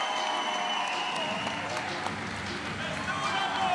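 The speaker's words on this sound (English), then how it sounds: "And gets some much-deserved applause from the crowd." Crowd applause and cheering at an indoor bouldering competition after a climber flashes a boulder, steady broadband clapping under a commentator's voice.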